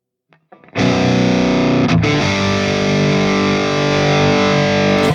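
A loud, sustained overdriven electric guitar chord through a Fractal AM4 rings out after a brief pick scrape, buzzing with distortion and held until it cuts off.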